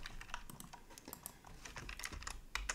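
Continuous typing on a computer keyboard while coding a Python Tkinter GUI, with quick irregular key clicks and occasional heavier strokes, fairly close and alone without talk.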